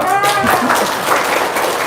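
Audience applause at an Indonesian motivational talk: steady, dense clapping filling about two seconds, with a voice heard over it.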